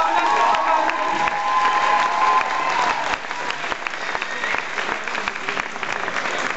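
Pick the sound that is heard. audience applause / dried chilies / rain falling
audience applause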